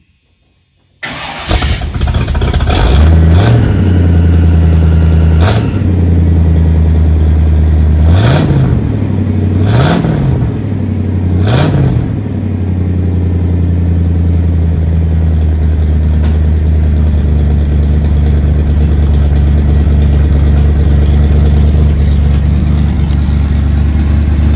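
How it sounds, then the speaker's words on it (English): Dually pickup truck fitted with a new exhaust cranks and fires up, then blips the throttle in about five quick revs before settling into a steady, deep idle. Loud and close, with no talking. "I'm gonna fire this thing up, see what it sounds like"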